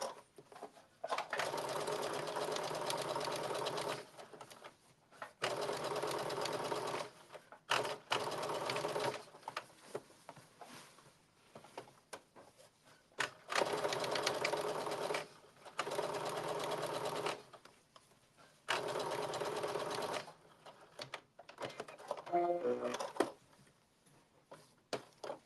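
Close-up stitching along a blazer collar edge on a sewing machine: four long, steady runs of rapid mechanical whirring, each a few seconds, broken by short silent gaps and a few light clicks near the end.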